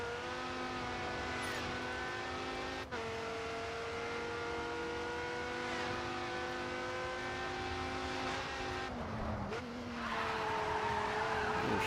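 A race car in the video game GRID 2 holds a steady, loud engine drone with tire squeal and skidding under hard braking. There is a brief dip near the middle and the engine grows louder again toward the end.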